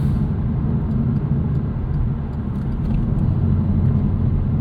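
A 2009 Chevrolet Cobalt SS turbo compact drives into a corner, with a steady, loud low engine and road rumble filling the cabin and no talking.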